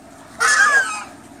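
Domestic geese at a small zoo let out a single loud, nasal honk that lasts under half a second against quiet background noise.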